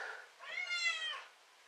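A pet cat lets out a single clear, fairly loud meow close by, rising and falling over about a second, with a faint murmur just before it.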